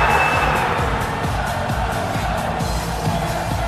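Stadium crowd in a rugby league video game celebrating a try for Great Britain against Europe, a loud, unbroken roar of cheering sustained throughout.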